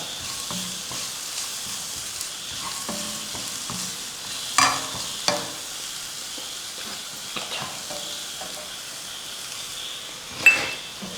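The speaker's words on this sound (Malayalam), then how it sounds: "ചതച്ച് വെച്ചിരിക്കുന്ന ചെമ്മീൻ ചേർത്ത് കൊടുക്കാം നന്നായിട്ടൊന്ന് ഇളക്കാം" Crushed shrimp stirred into a roasted spice mixture frying in a pan for a snake gourd thoran: a steady close sizzle, with a few sharp spoon scrapes and clinks against the pan.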